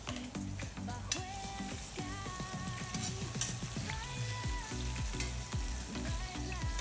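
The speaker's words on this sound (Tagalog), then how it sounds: "Lagyan mo tayo ng bawang. Lagyan natin yung bawang mga bikers." Garlic fries in a pan with tomatoes and onions for a mung bean and chicken dish, giving a loud, continuous sizzle with scattered crackles and stirring sounds and no voice over it.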